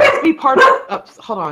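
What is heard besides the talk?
dog barking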